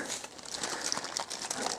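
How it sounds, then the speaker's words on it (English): Bubble wrap being pulled away from a T47 bottom bracket, a close, steady crinkling and rustling with soft crackles throughout and no talking. "The bottom bracket itself comes in a bit of bubble wrap,"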